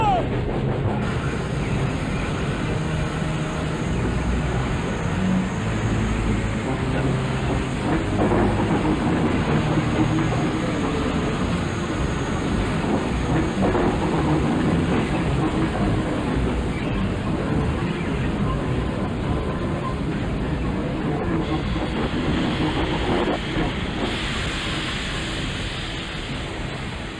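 A train in a classic western runs on its rails, a loud, steady rumble that holds for the whole stretch, with a faint clatter and a slight fade near the end.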